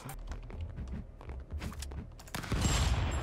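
Video-game gunfire crackles in a rapid burst of sharp shots, followed by a louder, denser blast near the end.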